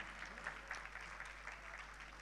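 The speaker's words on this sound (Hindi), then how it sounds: "जोरदार तालियों से स्वागत करें।" Applause from an audience at a welcome ceremony, faint and somewhat distant, a dense patter of clapping hands throughout with no talk.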